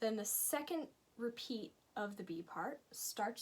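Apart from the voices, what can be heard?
No distinct noise like a dog, phone or traffic.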